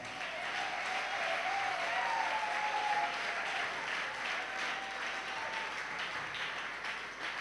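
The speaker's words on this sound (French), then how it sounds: "Acclamons encore pour les mamans." An audience applauding at a gathering on family harmony, a dense, sustained clapping from a crowd filling the room for several seconds, with a faint voice underneath.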